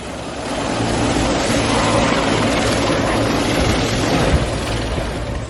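A helicopter with a possible rotor or engine failure drops fast, giving off a loud, continuous broadband roar of engine and rotor noise that holds steady throughout, with no voices.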